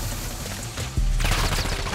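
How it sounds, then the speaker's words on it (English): Gunfire in Call of Duty Warzone Resurgence, a dense burst of rapid shots that swells louder and nearer partway through, with a heavy low boom underneath and no talk over it. "He shot me through the smoke."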